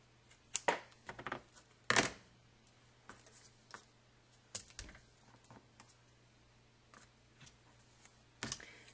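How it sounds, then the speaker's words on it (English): Tape strips being cut for a scrapbook layout produce sharp, quiet snips and clicks in an irregular rhythm, each brief and close, with soft rustling between them in an otherwise hushed room. "cut a bunch of tape."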